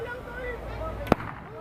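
A single firecracker goes off with one sharp, very brief crack, heard amid people talking nearby.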